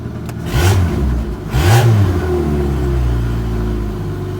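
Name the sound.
car engine idling and revving with exhaust disconnected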